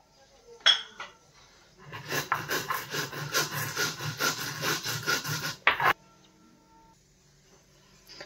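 Tomato pickle is ground by hand on a Nepali silauto grinding stone in a home kitchen: a few sharp clinks, then about four seconds of steady, rhythmic scraping strokes close by, then quiet with a final clink.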